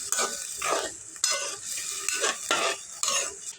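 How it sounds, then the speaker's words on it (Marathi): Sprouted moth beans (matki) stirred in hot oil in a pan, giving a soft frying sizzle broken by repeated scraping strokes of a spoon against the pan, roughly every half second to second, close and with no voices. "तेलावर परतून घेऊ कटलेले मोड घालू"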